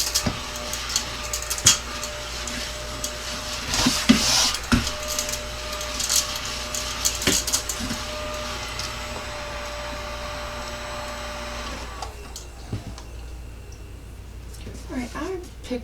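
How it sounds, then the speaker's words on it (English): A small ladybug-shaped handheld vacuum runs with a steady whine and clicks while it picks up paper scraps, then switches off near the end. A voice talks quietly underneath. "I'm going to vacuum that up using my little ladybug"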